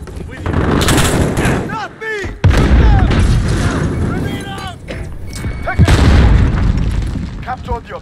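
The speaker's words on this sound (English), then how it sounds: "Grenade out!" Call of Duty Modern Warfare Hardpoint match: loud bursts of automatic gunfire and booming grenade blasts, several heavy impacts spread across the stretch, with radio-style game voice callouts mixed among the shots.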